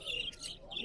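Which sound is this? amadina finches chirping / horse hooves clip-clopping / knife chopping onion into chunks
amadina finches chirping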